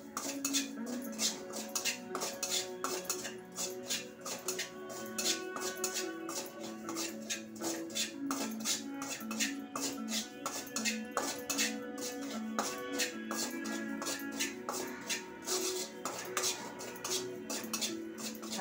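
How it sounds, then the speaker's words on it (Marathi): Poppy seeds dry-roasting in a pan for Malvani masala, stirred quickly so they don't burn: a steady run of light scraping and clinking from the spatula against the pan, close and continuous throughout. "आता खसखस आहे ना, तर पटपट जरा परतावा लागेल."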